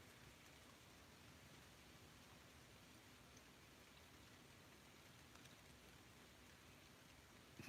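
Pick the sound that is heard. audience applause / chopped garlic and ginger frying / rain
rain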